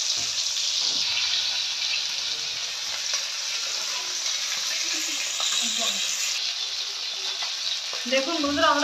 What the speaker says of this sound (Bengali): এবার বাকি মাছগুলো তেলের মধ্যে ছেড়ে দেব।